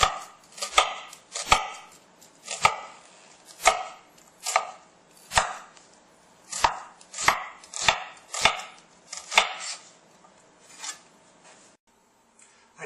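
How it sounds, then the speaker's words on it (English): A knife dices onions fast on a cutting board, sharp close chops landing in quick bursts and uneven clusters, separated by short pauses, with no talking. "You too can learn to dice up onions super fast with just a little bit of practice"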